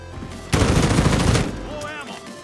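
Rapid bursts of automatic gunfire from hip firing in the Call of Duty video game, loud and dense for about a second before trailing off into game ambience.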